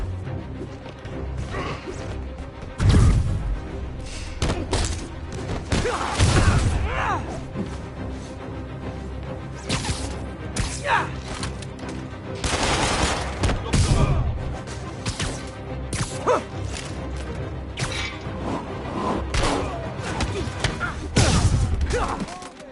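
Bursts of gunfire and heavy impacts from a Spider-Man video game crash and thud in uneven clusters over a continuous action backdrop, loud and busy.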